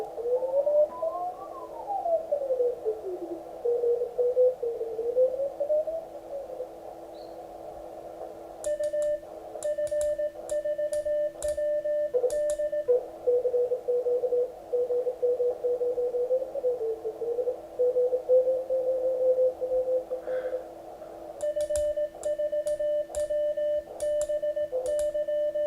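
Morse code sidetone from an amateur radio during an evening chat: steady keyed tone bursts in rapid dots and dashes, with a second higher signal chirping in and out and stretches of clustered keying, no voices.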